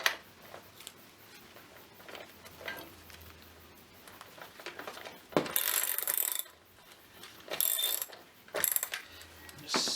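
A socket wrench with an extension ratchets on the chain tensioner bolt of a Scott motorcycle, giving quick bursts of clicking near the mic, separated by quieter pauses, with no one speaking.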